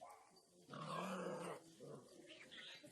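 A dog growling low and then giving short rough barks, fairly faint and close, with a rising snarl in the middle and softer grumbling afterward.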